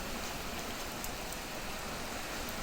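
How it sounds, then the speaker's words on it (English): Steady rain hisses outside a workshop as a constant, even wash of noise with no breaks and no voices. "we're certainly getting the rain they promised us."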